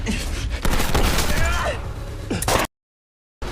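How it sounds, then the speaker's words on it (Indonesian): Gunfire crackles through a film scene in bursts over dense, loud background noise and shouts, then cuts to sudden silence before resuming briefly. "terjadilah tembak-tembakan antara mereka semua"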